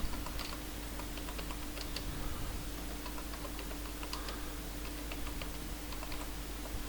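Soft, quick clicks of typing on a computer keyboard, irregular bursts of keystrokes over a low steady hum, quiet and close.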